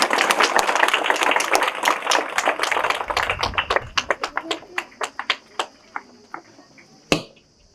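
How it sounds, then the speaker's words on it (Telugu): Clapping from a gathered crowd at a church ceremony in Sambagal, Kurnool diocese, beginning as a dense round of applause and thinning into scattered individual claps, with voices faintly underneath. "అందరూ చప్పట్లు కొట్టండి"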